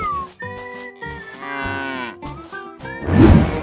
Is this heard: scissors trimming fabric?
no